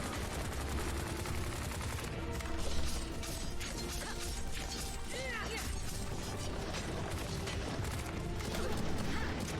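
Continuous rapid gunfire in an action video game as a player fires to levitate, dense mechanical clattering and cracks running steadily throughout at moderate level, with no talk.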